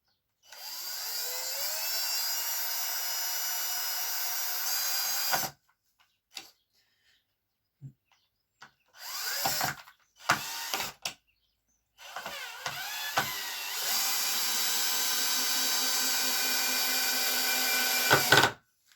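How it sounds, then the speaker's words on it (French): A cordless power screwdriver drives screws into pine boards for a pallet and pine dining table, its whirring motor running in long bursts of several seconds, separated by short spins, pauses and faint handling clicks. "donc la visseuse"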